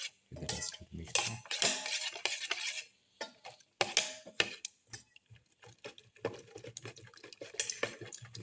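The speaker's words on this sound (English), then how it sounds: "Thoroughly mix the black pepper" A utensil stirs black pepper into an omelette egg mixture with red spinach, scraping and clinking rapidly against the bowl in close, busy bursts, with one brief pause midway.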